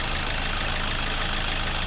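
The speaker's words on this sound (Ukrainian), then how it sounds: "Покажу вам двигун. Так його краще чуть, як він працює." Hyundai i40 1.7 CRDi diesel from 2013, automatic, idling with the engine cover off, a steady close mechanical hum and clatter held even throughout, with no voices.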